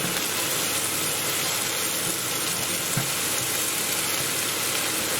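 A masala base sauce for a prawn and mushroom bhuna fries in a pan while being stirred, giving a loud, continuous sizzle that holds steady throughout with no talking.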